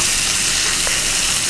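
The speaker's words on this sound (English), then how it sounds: "So we'll let those sizzle for a little bit." Sliced sweet onion rings sizzle in a pan as a topping for steak, giving a close, steady, continuous hiss and crackle with no voices.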